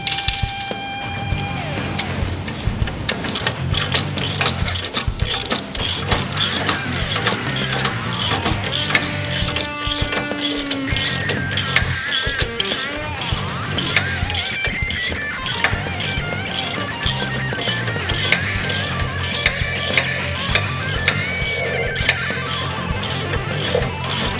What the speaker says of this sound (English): Take the second half of the bushing with factory hardware, slip it over the top, and tighten it down.